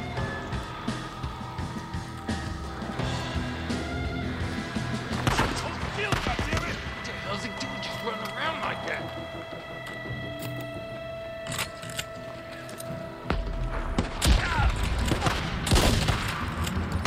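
Gunfire in the Days Gone video game bursts out in clustered sharp shots, close and loud, amid game sounds and talk.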